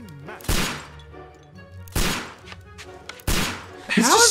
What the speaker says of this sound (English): He's just shooting randomly.